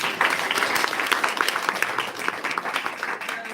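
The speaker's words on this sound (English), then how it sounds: "So give yourselves a round of applause." A conference audience at MinkaCon 2025, a panel event on Japanese farmhouses, breaks into applause: many hands clap densely and evenly, with the sound fairly close and lasting the whole stretch.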